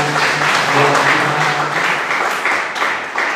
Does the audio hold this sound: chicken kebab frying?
no